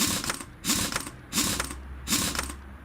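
A ratchet tightens a wheel on a 1970 Chevelle in four evenly spaced bursts of rapid, close clicking, with no talk.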